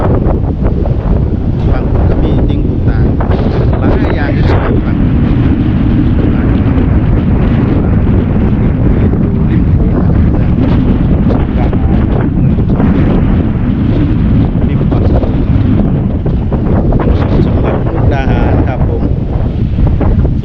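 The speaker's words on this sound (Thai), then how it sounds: "ลมแห้งครับลมเย็น" Strong wind buffets the microphone on a Mekong riverbank near the Thai–Lao Friendship Bridge in Mukdahan on a cool, dry winter day, a loud continuous roar with gusts and no pauses.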